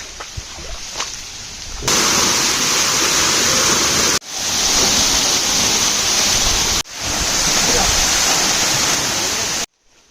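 Murung waterfall, also called Kar Sia, roaring as a loud, steady broadband rush that sets in after a quieter opening, with two brief cuts before it resumes at full strength.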